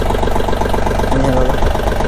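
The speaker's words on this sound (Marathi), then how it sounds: "मी तुम्हाला ट्रॅक्टर चालू करून दाखवतो" A Mahindra OJA tractor engine runs at a steady idle, loud and close, with a constant low throbbing pulse and no break for the whole stretch.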